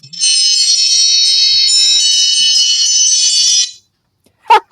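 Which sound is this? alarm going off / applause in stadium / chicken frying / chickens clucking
alarm going off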